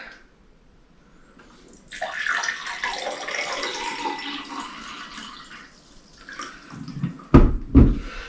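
Water poured out through a water filter, starting after a quiet moment as a gurgling splash that runs for several seconds, fades, then ends with a couple of sharp knocks.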